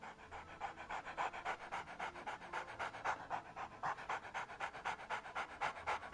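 A dog pants in the Scott Whiskers video game, with steady rapid breaths repeating evenly and close up, at moderate loudness and with no talk.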